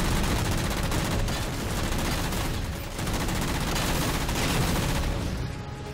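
Dense, continuous gunfire in the shooter Halo 4, a steady wall of shots and explosions at even loudness with no clear breaks.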